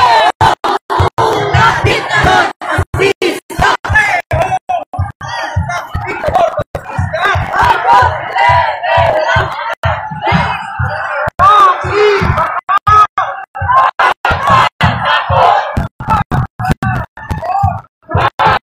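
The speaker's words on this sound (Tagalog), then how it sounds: "Sigawan na." Protesters at a rally calling for a dictator president to step down shout together as a loud crowd, dense overlapping voices rising and falling with sharp bursts and breaks throughout.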